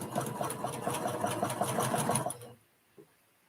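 A sewing machine stitches a quilted scrappy table topper, running in a fast, even rhythmic whir close by for over two seconds before stopping, followed by a single faint click.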